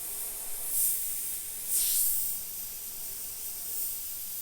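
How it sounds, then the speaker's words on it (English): Soft continuous hiss of an airbrush spraying paint, swelling in two short bursts as the trigger is worked. "So I'm again just sketching with that airbrush."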